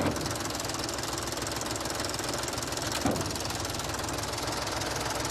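A tracked digger creeping along at two-thirds of a mile an hour, its engine knocking in a steady rapid rhythm, fairly quiet and unbroken except for one brief clunk midway.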